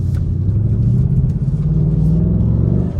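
Ford Mustang Mach 1, a brand new car, with its engine revving through a rev-matched downshift, a loud steady low rumble rising and falling slightly in pitch, heard from inside the cabin with no talking.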